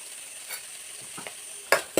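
Chopped onion with turmeric and salt frying in a pan, a low sizzle broken by a couple of sharp spatula scrapes and clanks toward the end, close and without talk.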